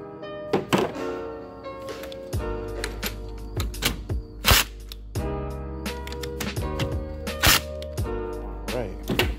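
A 10 mm wrench loosens the battery terminals on a 2013 Hyundai Santa Fe Turbo 2.0, giving close, sharp metallic clicks, clanks and thunks in irregular bursts over a low background.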